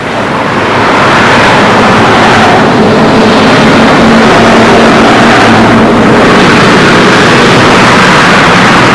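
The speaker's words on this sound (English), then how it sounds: "a live motorway teeming with traffic" Dense motorway traffic on a live highway in Thessaloniki, Greece, a loud continuous broadband roar of passing vehicles with slow surges, steady throughout with no talk.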